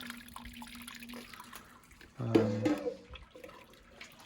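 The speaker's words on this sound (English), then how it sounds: "baskets out and do a lot of sparging." Water pours and trickles as grain baskets are sparged while brewing saison beer, a faint running flow with a brief louder splash midway.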